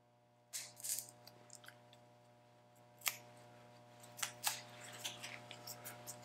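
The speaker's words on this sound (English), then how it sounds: "I just take and I cut a little V with my scissors." Scissors snip a small V notch into a wooden popsicle stick, giving a few sharp close clicks and crunches spaced over several seconds above a steady low hum.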